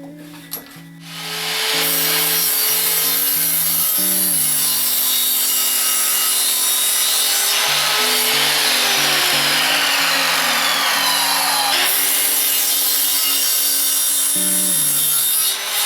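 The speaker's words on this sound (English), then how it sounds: "I roughly measured how long I wanted the bracing pieces and cut a test one." A wooden bracing piece is hand sawn at a 45-degree angle for a bird table, with steady, continuous back-and-forth saw strokes rasping loudly and close by for most of the clip, without talk.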